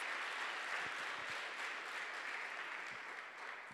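Church congregation applauding, a dense steady wash of clapping from many hands that carries on throughout without a break, with no voices rising above it.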